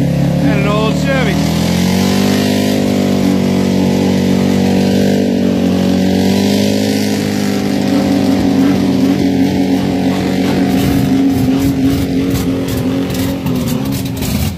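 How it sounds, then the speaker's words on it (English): A truck engine strains with a loud, sustained droning roar while pulling a stuck new Toyota Tacoma and an old Chevy, its pitch shifting and rising under load throughout. "Shavoda, pulling a new Tacoma, and an old Chevy"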